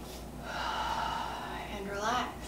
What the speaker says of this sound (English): And breathe in.